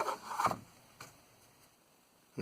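A few short, dry rasping strokes of sandpaper hot-glued to a hobby knife, rubbing against a hard model surface, with quiet pauses between them.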